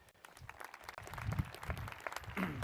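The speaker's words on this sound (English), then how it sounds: "I wish you'd give him a round of applause." Distant, fairly soft applause from the crowd at a 2018 spring university commencement ceremony, an uneven patter of hands that builds midway and continues for a few seconds.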